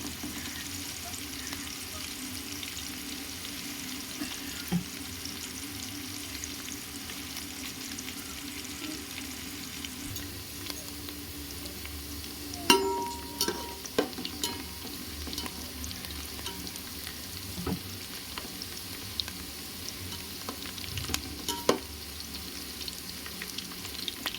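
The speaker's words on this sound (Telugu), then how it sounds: "బాగా ఎర్రగా వచ్చేంత వరకు వేపుకోవాలండి బ్రౌన్ ఆనియన్స్ కావాలి కదండి మనకు బిర్యానీకి అందుకని ఇవి వేపుకుంటున్నానండి" Onions frying until brown for chicken dum biryani, a steady broadband sizzle across the whole stretch, with occasional clinks and scrapes of stirring, close and continuous with no talk.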